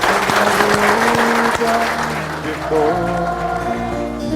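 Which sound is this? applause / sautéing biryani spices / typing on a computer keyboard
applause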